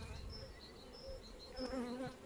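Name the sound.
honeybees buzzing around beehives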